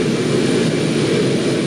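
Aircraft engines run during maintenance at Hong Kong airport, giving a loud, steady, broad roar that fills the whole stretch without any voices.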